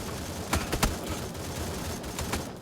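A few sharp gunshots crack over a noisy background in the video game New State Mobile, scattered bursts with short gaps, fairly distant-sounding and not very loud.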